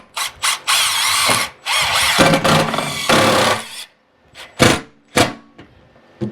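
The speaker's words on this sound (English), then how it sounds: "I'll go ahead and pop a couple of screws in here." Power drill driving screws during a Chevy crew cab truck build, in one long whirring burst followed by several short, sharp bursts with brief pauses between, close and loud with no talk.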